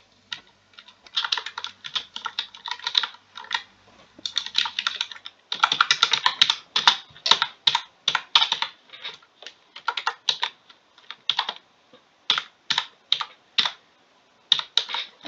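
Rapid clicking keystrokes on an ordinary non-gaming computer keyboard, typed in quick bursts with short pauses between them, close and crisp, with no talking.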